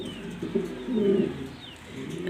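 Black exhibition pigeons, a cock and a hen, cooing in soft low rolling phrases that swell in the middle, close by and alone.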